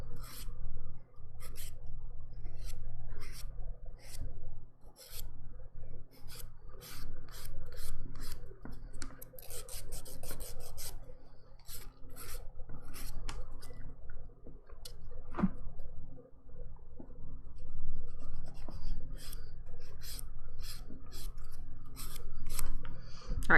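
Steady rasping strokes of a buffer on a dip powder manicure with pumpkin-themed Thanksgiving nails, close and dry, in a quick repeated rhythm with short pauses.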